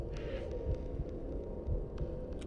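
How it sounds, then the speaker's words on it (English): A quickening heartbeat in the video game Little Nightmares throbs as dull, low thumps at a steady rhythm over a constant droning hum, with no talking. "my heartbeat is increasing"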